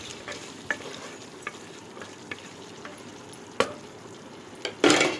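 A spoon stirs fried masala with coriander powder and garam masala in a pan for egg biryani. A soft sizzle runs underneath, broken by scattered scraping clicks and a louder clatter at the finish.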